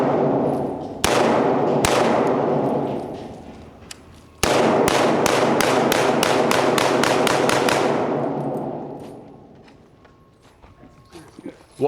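A Sig Spear M7 rifle fires loud, sharp reports outdoors: two single shots, then a rapid string of about a dozen booming cracks, each followed by a long echoing decay that fades into quiet.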